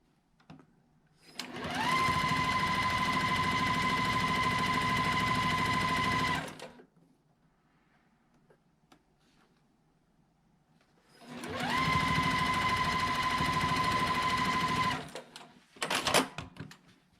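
A sewing machine stitches quilt block seams in two long, steady, loud whirring runs of several seconds each, separated by a quiet pause and followed by brief clatter.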